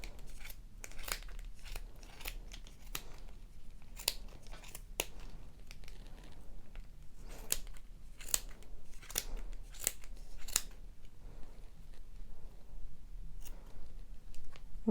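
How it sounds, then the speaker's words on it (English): Scissors snip repeatedly through the yarn of a knitted pom-pom on a child's bumble bee hat, giving a steady series of crisp, close cuts with short pauses between them. "I'm going to insert my scissors where the separation is between the two sides, and I'm just going to begin cutting."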